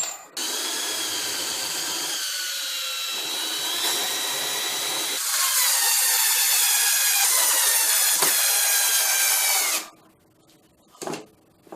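A power drill bores countersink holes into wood, a loud, close whine running almost continuously in two long bursts with a slight pitch change between them, then stopping into near silence with a couple of brief afterbursts.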